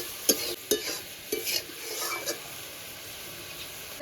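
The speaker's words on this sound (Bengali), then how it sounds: "এবার সব কিছু ভালো করে মিশিয়ে রান্না করে নেব" Water lily stems with prawns, turmeric and spices are stirred in a pan over a faint sizzle, with a few soft utensil scrapes and clinks close by.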